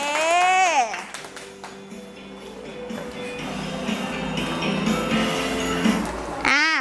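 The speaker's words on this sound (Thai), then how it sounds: "เพื่อนๆปรบมือให้ผู้เก่งคนเก่งของเราหน่อยค่ะ" Primary school pupils in a Thai classroom clap for the winning team of a maths activity; a dense, steady patter of hands runs for about five seconds beneath a faint tonal hum, after a brief stretch of voice at the start.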